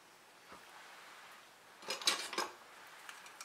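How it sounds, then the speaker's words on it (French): Pinking shears snipping through fabric while sewing a document pouch and tablet sleeve, a short cluster of crisp metallic cuts around the middle, close and fairly quiet against a hushed room. "je vais découper le surplus à l'aide de mes ciseaux cranteurs"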